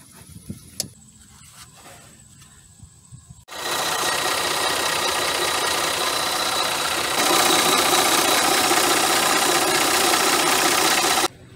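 A Toyota Sienna 3.3 engine with a repaired power steering pump starts after a quiet stretch of small clicks, then runs at a steady, loud idle that rises slightly partway through.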